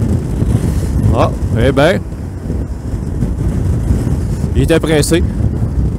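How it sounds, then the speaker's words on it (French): Strong wind buffeting the microphone while riding a Suzuki V-Strom 650 motorcycle on the road, a loud continuous rushing roar under brief speech, with two short swishes of passing vehicles. "il y a un vent incroyable"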